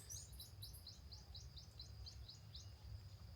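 Small birds chirp outdoors in nature, a quick series of bright, high tweets repeating in short bursts over a low rumbling background, fairly faint and distant.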